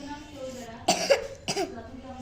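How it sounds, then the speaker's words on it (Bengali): A child gives a few short coughs close by, two or three quick bursts, with a voice talking around them during a slime play session. "এরে কাশি"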